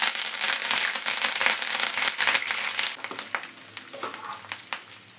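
Shredded chicken fries in hot oil as curry leaves go in, a loud, dense crackling sizzle that drops to a lighter, sputtering fry with sharp pops.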